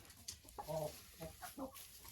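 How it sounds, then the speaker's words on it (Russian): A rooster gives soft, broken clucking calls to hens in a Russian poultry house, a few short bursts close by over faint background noise. "Петух зовет курицу, чтобы она шла нестись именно вот туда"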